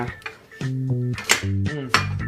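Plates are picked up and handled in a kitchen while breakfast is made, giving several close, bright clinks and knocks of dishes against each other, with some tonal sound in between.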